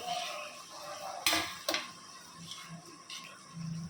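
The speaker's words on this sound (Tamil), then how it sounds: "இந்த மசாலா கலவையை நல்லா பச்சை வாசம் போகிற வரைக்கும் நல்லா வதக்கிக்கலாம்" Masala paste for mutton gravy is stirred in a pan, a utensil scraping and clanking against the metal in two sharp knocks, with soft stirring and faint background sizzle and no talking.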